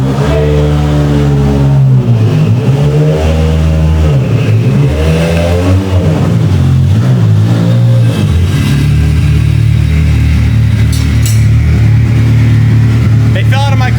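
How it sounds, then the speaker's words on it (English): A car with an SR20 engine revs loudly up close, its tone climbing and falling in several rises before settling into a steady, rumbling idle. "You hear that? That's the sound of SR20."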